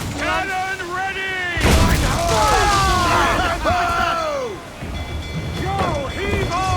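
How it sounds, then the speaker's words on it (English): Ship cannon fire in Assassin's Creed IV Black Flag during a naval battle: a single heavy booming blast midway, surrounded by loud shouting crew voices and talk throughout. "Reload! Cannon ready!"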